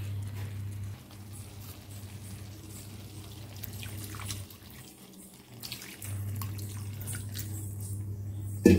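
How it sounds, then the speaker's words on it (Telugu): Water is poured into a pot of Gongura chicken curry, a soft, steady running splash that is faint and continuous over a low kitchen hum, with a short pause midway. "ఇందులో కొద్దిగా వాటర్ వేసుకుందాం"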